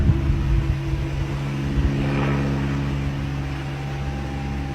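Steady droning hum of a parked airplane's engines heard from inside the cabin, with a low-pitched continuous rumble and faint whine holding evenly throughout, no voices.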